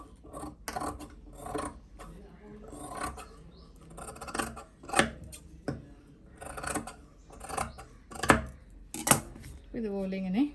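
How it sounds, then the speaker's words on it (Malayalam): Scissors snip thread at a sewing table, a series of sharp close cuts spaced across the stretch, with talk in between and a brief tonal whine near the end. "നൂലൊക്കെ ഉണ്ടെങ്കിൽ അതിങ്ങനെ കട്ട് ചെയ്ത് മാറ്റും"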